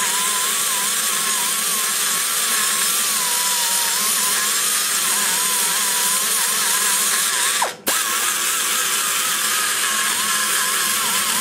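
A power tool grinds a port in an aluminum small-block Chevy cylinder head, a loud, steady high whine with a wavering pitch that cuts out abruptly near the end and then resumes.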